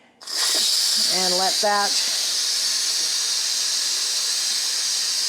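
Steam from an Instant Pot quick pressure release during pot roast cooking bursts out as a loud, near, continuous hiss that runs unbroken for several seconds, with a brief spoken phrase over its start.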